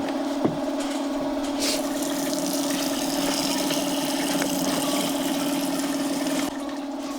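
Water runs steadily into a pump sprayer fitted with a sieve. The rushing is continuous and moderately quiet, and a small knock comes near the start.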